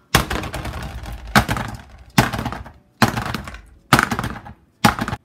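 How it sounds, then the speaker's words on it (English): Six sharp, loud bangs of cake pans filled with batter knocked on a counter, spaced roughly a second apart, each followed by a brief rattling ring. "now I'm gonna shake my pans and bang them to get the air bubbles out."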